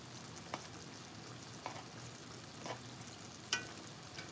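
Lamb chops fry quietly in a pan on low heat, an uncovered, steady soft sizzle with a few faint clinks and taps from basting.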